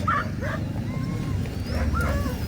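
Sled dogs yip, whine and bark in bursts before a race, several animals close by over a steady outdoor rumble, with some voices mixed in.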